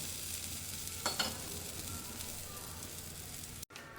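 A puda, a thin Gujarati mixed-flour pancake, frying in a pan with a little oil, giving a soft, even sizzle with a couple of light scraping taps.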